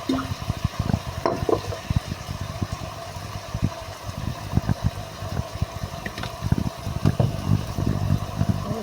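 A spoon stirs adobong atay-balunan, chicken liver and gizzard adobo, in a pan, making steady soft scraping and clinking over a low simmering bubble, close and moderately loud, with no talking.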